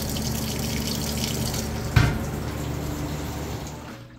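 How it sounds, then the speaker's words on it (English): A Whirlpool top-load washer steadily fills with water, a continuous rushing pour at moderate level with one brief louder splash or knock partway through, no voices. "So once this is done filling up with water, I'll come back."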